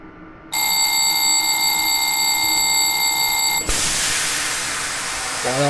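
In Train Simulator 2020, a vigilance alarm in a BB 26060 locomotive on a TER run rings loud and steady for about three seconds, then cuts off into a long rushing hiss of released air.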